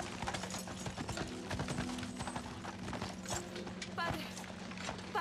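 Horses' hooves clip-clopping in a 1999 Joan of Arc period film, a dense, continuous patter of hoofbeats, close and steady, with a low drone and a busy background beneath them.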